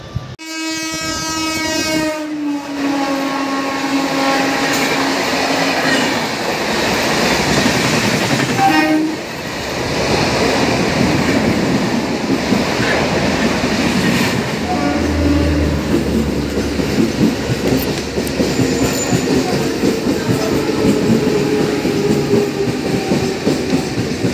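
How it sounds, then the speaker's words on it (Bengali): A Digha local train runs on rails with a steady rumble and rhythmic clatter of wheels. Loud horn blasts sound near the start, and the train keeps rolling for the rest of the stretch. "এখান থেকে দীঘা লোকাল ধরে আমি মন্দারমণি যাব"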